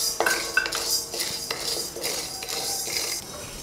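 Sago pearls being roasted dry in a pan, a utensil scraping and clinking against the metal in quick repeated strokes, close and fairly quiet with no voices.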